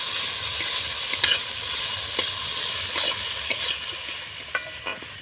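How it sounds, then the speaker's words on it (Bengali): Chopped carrot and capsicum stir-fried in a pan, a steady bright sizzle throughout with repeated scraping strokes of a spatula against the pan at a loose rhythm, close and alone. "গাজর আর ক্যাপসিকাম কুচিটা একটু নাড়াচাড়া করে ভেজে নেব"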